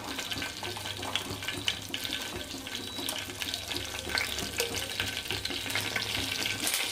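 Mustard seeds, cumin and dried red chilies frying in hot oil for a tempering, a dense continuous sizzle with crackling pops and stirring, close and steady.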